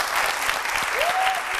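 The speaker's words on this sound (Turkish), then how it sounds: "Alkış." Studio audience applause on a Turkish TV word quiz show, brisk dense clapping throughout, with a brief tonal sound rising near the end.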